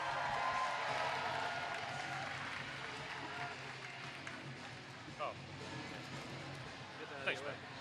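A crowd applauds as the Heartless Heathers team is introduced: dense, steady clapping that slowly thins and fades, with voices talking over it.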